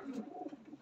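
A breeding pigeon gives a soft, low cooing, a short run of muffled pulses close by and faint.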